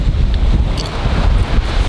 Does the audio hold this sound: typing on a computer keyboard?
no